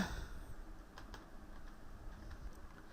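Faint, sparse keystrokes on a computer keyboard while an Aadhaar number is typed into an MS Word document, a few light clicks spaced irregularly over a quiet background with no talk.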